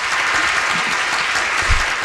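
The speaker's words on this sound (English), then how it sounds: "Give him applause. Give him applause." Sustained applause on a morning radio show, a steady wash of many clapping hands, fairly loud and even from start to finish.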